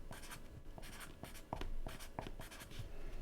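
Chalk or marker writing on a board during a university math lecture: close, scratchy strokes and taps in quick irregular bursts, with no talking.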